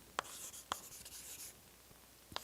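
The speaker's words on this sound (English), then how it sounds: "let me actually write it better" Chalk or marker writing an equation on a board during a mathematics lecture, quick taps and short scratchy strokes in a brief cluster, close and fairly clear with no talk.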